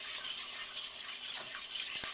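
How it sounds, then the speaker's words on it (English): A whisk works flour roux into half and half in a pot, giving a steady wet swishing and scraping that runs continuously at close range with no speech. "Whisking the whole time."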